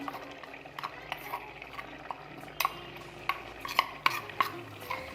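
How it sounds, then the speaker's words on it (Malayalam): A spoon stirs cornflour and water together in a small bowl for a carrot curry, giving faint, scattered clicks and scrapes against a quiet kitchen background. "എന്നിട്ട് നന്നായിട്ടൊന്ന് മിക്സാക്കി എടുക്കണം."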